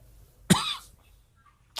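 A man gives a single sharp, harsh cough from an interview, a short burst with a brief raspy tail, then near silence.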